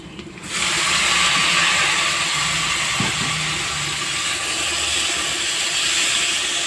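Kharkol stalks tossed into a pan of onion, garlic and chilli already fried red, setting off a loud, steady sizzle that starts abruptly and hisses on evenly with a faint clunk partway through.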